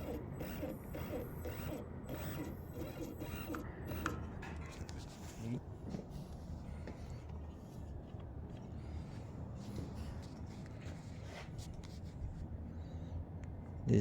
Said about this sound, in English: Okay, the motor should run and the puller should be run also.